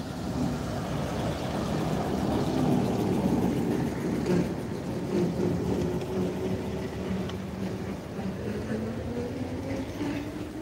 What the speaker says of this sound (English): The Italian tractor again.